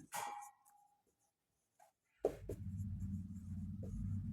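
A pen scratches briefly on paper for a short stroke near the start, followed by near silence and then a louder, steadier sound.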